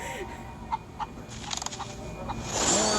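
A chicken clucks in the video game Wizards Unite, a few short, evenly spaced clucks followed by a brighter chirpy burst, clear and close.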